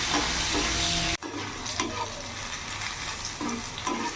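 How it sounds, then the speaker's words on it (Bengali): Brinjal pieces fry in hot oil with a steady, dense sizzle that breaks off abruptly partway through, then returns quieter with faint scrapes and stirring clicks. "বেগুনগুলো লাল লাল করে ভাজা হয়ে গেছে ওর আমি নামিয়ে ফেলবো"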